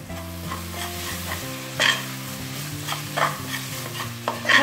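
Masala spices, including Kashmiri red chilli, coriander, turmeric and garam masala, stirred and sautéed in a frying pan for rajma masala, giving a steady close sizzle with repeated scraping strokes of the spoon and no talking.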